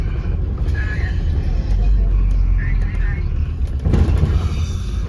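Inside a 2008 Scania N230UD OMNICity bus on a route to Poole, a steady low engine and road rumble fills the cabin, swelling briefly near the end, with rattles over the drone.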